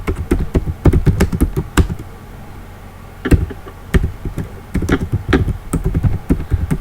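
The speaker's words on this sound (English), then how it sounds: "Like if I start typing my text" Fast, uneven clatter of keys on a computer keyboard, close-up taps in bursts with brief pauses, over a low background rumble.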